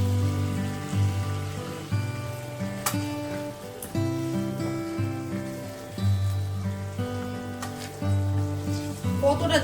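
Boiled mutton hits a hot wok of cooked spices, giving a hissing sizzle that sits under steady background music throughout.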